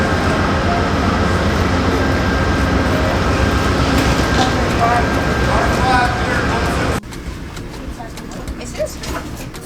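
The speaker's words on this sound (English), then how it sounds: "This is the train." A passenger train runs with a loud, steady rumble and rattle. Partway through, the noise drops abruptly, as if the listening position shifts or a door closes, and the train continues more quietly after that.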